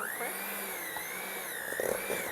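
An electric mixer whirs steadily through powdered sugar and vanilla frosting, a continuous high motor hum that wavers slightly in pitch, with faint scraping near the end.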